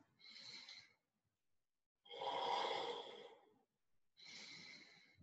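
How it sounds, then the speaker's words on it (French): Slow, deep breaths in and out during a hatha yoga pose, three long airy exhalations and inhalations separated by quiet pauses, close and soft, with no talking. "Respirez ici. Inspire. Expire."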